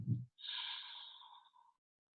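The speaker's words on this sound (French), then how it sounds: "Une dernière fois, longue inspire." A long, slow inhale drawn during a yoga breathing practice: a soft airy breath that swells and holds steady for over a second, close and fairly quiet, preceded by a brief low thump.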